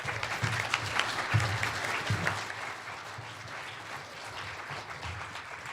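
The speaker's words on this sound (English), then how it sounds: "Do a round of applause for Yoshi." An event audience applauds Yoshi: sustained dense clapping from a crowd, strongest early with a few sharper claps, then settling into steady, slightly softer applause throughout.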